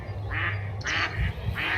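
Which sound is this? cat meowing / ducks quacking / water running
ducks quacking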